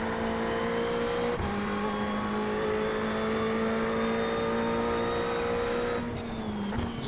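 Ferrari GT3 race cars leave the grid at Suzuka in a racing game, with a dense, steady engine roar and a sustained high whine. The pitch shifts and a brief lift comes near the end.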